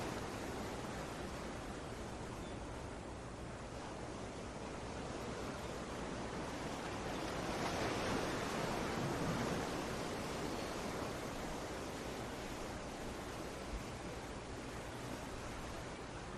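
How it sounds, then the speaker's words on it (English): Steady ocean waves wash continuously, a broad, even roar of surf with a gentle swell in the middle and no voices over it. "Tune into the ocean sounds."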